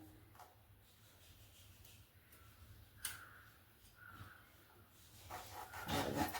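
A knife slices potatoes into thick fries on a wooden cutting board, faint rubbing and scraping strokes with a knock or two, growing louder and busier near the end.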